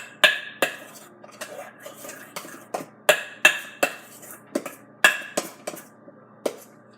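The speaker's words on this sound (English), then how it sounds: "And you want to mix it really nicely." A utensil stirs chocolate mousse in a bowl, clinking against the sides in quick rhythmic bursts of two or three taps, close and fairly clear with no talking.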